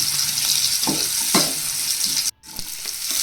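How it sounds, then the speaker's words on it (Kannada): Carrots frying in a pan for chow mein, a loud continuous sizzle with a few stirring scrapes, then a brief sudden drop before the hiss resumes, no talking. "ಕ್ಯಾರೆಟ್ ಕೂಡ ಫ್ರೈ ಮಾಡ್ಕೊಂಡು ತರ್ಟಿ ಸೆಕೆಂಡ್ ಬೇಯಿಸ್ಕೊಂಡ್ರೆ ಸಾಕು"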